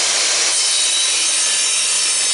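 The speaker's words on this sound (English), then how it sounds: "I've got 2 10-footers that I've got to rip right down the middle with this table saw" Table saw ripping a 10-foot wooden 1x4 board lengthwise down the middle, a loud, steady, close cutting whine with no talking.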